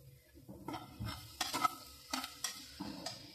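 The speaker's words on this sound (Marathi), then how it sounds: "त्याच्यासाठी मी हा कांदा आणि लसूण परतायला टाकलेला." Onion and garlic sautéing in a pan, sizzling steadily while a utensil stirs and scrapes in a few sharp bursts, close and fairly quiet, with no voices.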